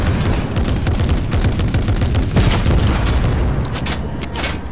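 Fortnite battle: loud, dense gunfire and booming blasts crackle continuously in close, overlapping bursts throughout, with heavy explosive thumps mixed in and no break in the shooting.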